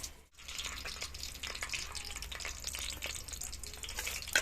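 An egg omelette fries in a pan during breakfast cooking, giving a steady close sizzle with crackling pops throughout and no talk.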